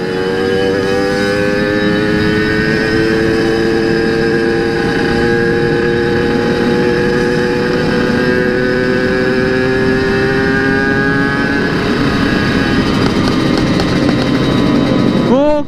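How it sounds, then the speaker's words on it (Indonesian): A three-wheeled motorcycle rides along and speeds up, its engine droning steadily with rising harmonic tones. The sound is loud and continuous, with broad traffic rumble underneath. "Ada motor unik loh, roda 3."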